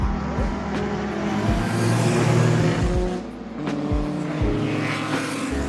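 An 8-litre Bentley Barnato-Hassan Special race car roars at Goodwood during the Parnell Cup, its loud, deep engine note rising and falling through gear changes and revs across the whole stretch, with no talk.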